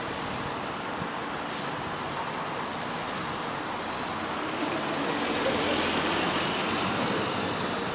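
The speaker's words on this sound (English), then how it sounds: "See how fucking fucked up these buses sound on a daily." A loud diesel city bus engine idling and rumbling close by, a steady, dense broadband roar that swells slightly toward the end, with no talk over it.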